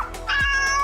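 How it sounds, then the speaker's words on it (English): A cat meows once, loud and close, with a clear rising-then-falling pitched call and no talking. "my cat Kygo and my dog Rhea has something to say."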